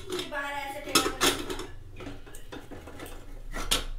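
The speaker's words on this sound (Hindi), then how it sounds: "मेरे से ना यार कुकर का ढक्कन नहीं निकल रहा" A metal pressure cooker lid being twisted open gives a few clinks and scrapes mixed with clattering cookware, while people talk nearby.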